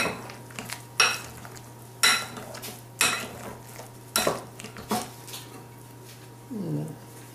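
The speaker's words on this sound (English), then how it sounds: "I'm going to put the eggs in here. Mix them up." Eggs being mixed into potato gnocchi dough in a bowl: a series of about seven spaced clacks and scrapes of utensil on the bowl, close by, over a low hum, with a brief animal-like sound near the end.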